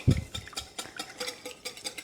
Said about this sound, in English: Today I'm just going to use my trusty little whisk